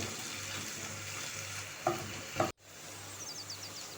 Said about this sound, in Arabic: تقلى معاها باش تطلق لونها في الزيت